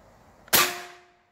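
A single sharp crack from a Benjamin Bulldog .357 air rifle being fired, one loud close report with a quick metallic ring fading over about half a second, preceded by quiet.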